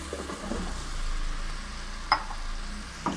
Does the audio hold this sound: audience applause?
no